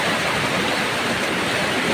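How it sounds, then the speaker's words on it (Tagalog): A fast-flowing flooded river rushes with a strong current, a loud, dense, constant roar of churning water with no pauses. "nakikita po ninyo ang agos ng ating pong ilog"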